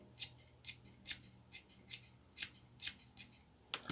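Scissors snipping yellow yarn for a small pompom, a quick series of about ten crisp close cuts in a steady rhythm, quiet and without talk.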